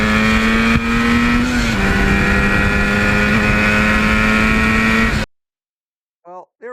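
A 1977 Yamaha RD400 two-stroke motorcycle screams at wide open throttle, a loud buzzing whine that dips once at a gear change, then cuts off abruptly, followed by a brief voice.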